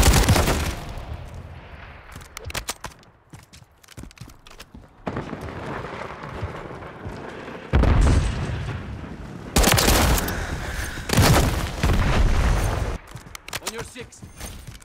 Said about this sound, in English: Grenade out! Termite! Stun grenade!